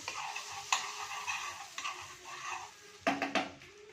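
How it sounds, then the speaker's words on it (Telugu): Oil and butter heating in a pan for French toast: a faint steady sizzle with a few brief clinks and a louder utensil scrape near the end, close by and without speech. "కొంచెం ఆయిల్ వేస్తున్నాను, ఆ బటర్ అనేది బర్న్ కావద్దు అనేసి."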